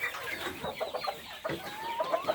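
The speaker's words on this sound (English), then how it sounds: "These are micro miniature citron silkies." Micro miniature citron silkie chickens on a farm in North East England cluck softly in short, irregular bursts, with a few rising chirps mixed in at close range.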